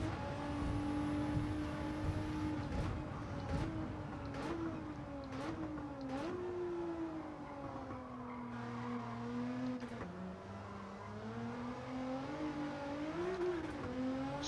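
A race car engine in Gran Turismo 7, an engine-swapped A110 lapping Tokyo Expressway, drones close and continuous, its pitch climbing and dipping with throttle and gear changes, with a hint of tire squeal.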